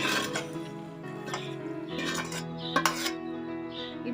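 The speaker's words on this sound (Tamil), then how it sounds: "இந்த வெண்டைக்காவை நம்ம ஒரு தட்டில் ட்ரான்ஸ்ஃபர் பண்ணி வச்சிடலாம்." Okra fried in a pan is scraped onto a plate, with a series of metal spatula clinks and scrapes against cookware, some sharp and close, with no talk.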